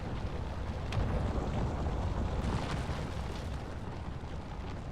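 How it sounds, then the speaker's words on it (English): Drill in the Space Engineers survival game, a dense, loud, continuous roar with a booming, explosion-like rumble that holds steady for about five seconds, with no talking. "Oof, I thought that was an explosion. The drill noise."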